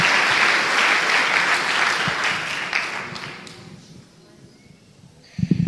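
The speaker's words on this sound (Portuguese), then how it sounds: "Dê uma salva de palmas ao Senhor." A church congregation claps for the Lord in a loud, dense burst that fades over several seconds into quiet, with a brief thump near the end.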